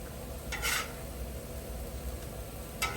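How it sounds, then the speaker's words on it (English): New York strip steaks sizzle on a Blackstone griddle, a steady low frying hiss with two brief louder scraping bursts, one near the start and one at the end, like a spatula flipping the meat. "take our steaks over here, give these guys a nice little flip"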